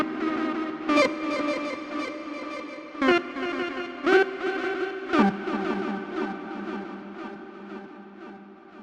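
Guitar or synth notes run through a Meris MercuryX reverb pedal: four sharp plucked attacks at uneven intervals, each blooming into a long, shimmering reverb tail that hangs and slowly fades.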